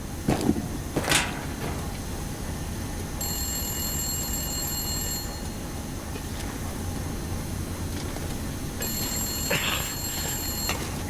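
In the video game The Long Dark, a telephone rings in two electronic bursts a few seconds apart over a steady rumbling game ambience, with a couple of sharp knocks near the start.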